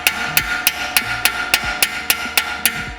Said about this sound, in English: when you smack it with a hammer like that